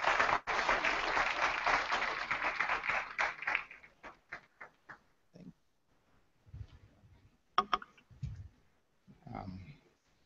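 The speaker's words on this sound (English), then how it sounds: "Please welcome him with a round of applause" A conference audience applauds a keynote speaker in a hall, the clapping dense and steady for about four seconds before thinning into scattered claps, with a few faint stray taps and murmurs afterward.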